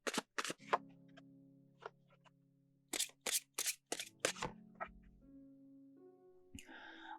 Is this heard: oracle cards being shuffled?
yes